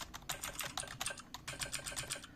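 Steady run of typing on an ordinary computer keyboard set up to sound like a mechanical keyboard, bright clicky keystrokes in quick irregular bursts, close and clear with no talking.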